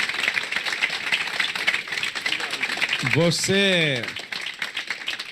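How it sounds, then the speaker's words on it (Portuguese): A live lecture audience claps loudly and steadily in a dense patter, while a voice rises briefly over the applause. "Uma salva de palmas com força para esse cara."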